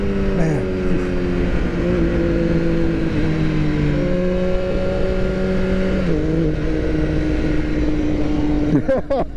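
A BMW HP4 Race motorcycle engine drones steadily while being ridden, with rising and shifting pitch through gear changes under constant wind rush, heard from the rider's position.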